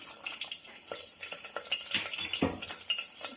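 Garlic going into hot oil in a pan gives a soft, close patter of light sizzling and crackling with small stirring clicks, faint and irregular.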